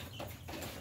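A chicken clucks briefly and steadily at feeding time while being fed by spoon, the sound close and continuous over a short stretch.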